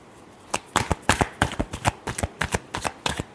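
Tarot cards shuffled by hand, a rapid series of crisp riffling slaps and flutters in an uneven rhythm, close and clear with no talk.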